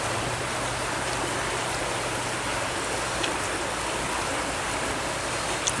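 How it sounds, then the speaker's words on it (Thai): Steady broadband rush of flowing water, like a stream running continuously nearby, with no voices. "เสียงน้ำไหลถืดถืดถืดถืดคถัด"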